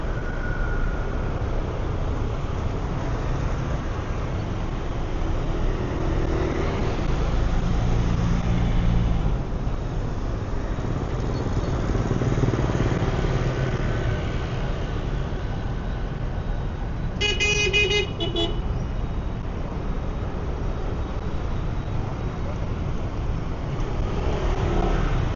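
Motorbikes and cars fill a street in Saigon, Vietnam, in a constant rumbling wash of engines, with one short burst of honking from a car horn partway through and no talk.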